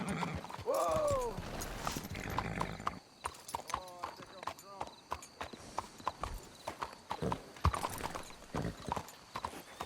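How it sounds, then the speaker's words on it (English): Horses in Red Dead Redemption 2 clip-clop along with a whinny near the start, followed by a steady run of distinct hoof strikes and faint mechanical creaks as the riders slow, with voices talking over the opening. "Let's hitch the horses up ahead."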